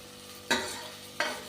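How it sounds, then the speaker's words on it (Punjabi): Garlic, onion and ginger frying in a pan, two sharp bursts of sizzle as the pieces are stirred, each fading into a soft hiss. "ਲਸਣ ਪਿਆਜ਼ ਅਦਰਕ ਥੋੜਾ ਥੋੜਾ ਹੀ ਐਡ ਕੀਤਾ ਹੈ ਥੋੜਾ ਜਿਹਾ ਲਾਈਟ ਬਰਾਊਨ ਜਿਹਾ ਹੀ ਕਰਨਾ ਹੈ"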